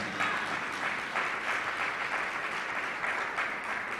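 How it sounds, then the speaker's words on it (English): An award ceremony audience applauds an honoured educator, sustained dense clapping at moderate volume with a steady, even texture throughout. "Give Clayton Hall another big round of applause."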